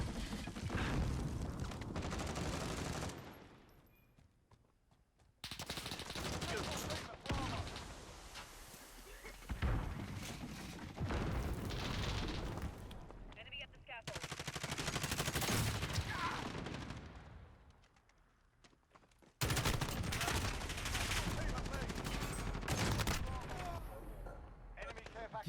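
Gunfire and bomb blasts from the video game Call of Duty, dense bursts of rapid shots and booms in several loud stretches separated by brief quiet gaps, with a voice talking over them.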